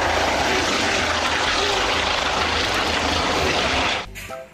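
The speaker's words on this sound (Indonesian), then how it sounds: "Lihat, ini ada helikopter juga teman-teman." A toy helicopter among toy vehicles gives a loud, steady whirring engine drone that holds for about four seconds and then drops off abruptly near the end.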